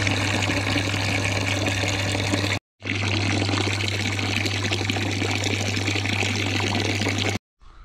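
Water pumped from the bottom of an old well pours out in a steady, muddy gush, with a constant low pump hum beneath it and two brief cut-outs.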